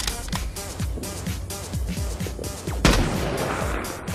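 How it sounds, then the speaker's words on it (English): Sniper gunshot sound effect dubbed over football footage: a run of sharp repeated cracks with one louder shot near the end, over a steady busy background. "It looks like he's been shot by a sniper."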